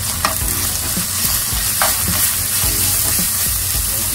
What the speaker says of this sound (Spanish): Hay que dore el ajo para que le dé un rico sabor